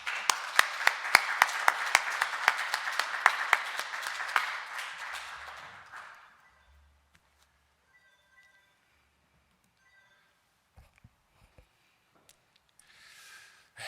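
A Sunday church congregation applauds to welcome a preacher, with loud, sharp clapping for about five seconds before it fades out into near silence with a few faint stray sounds.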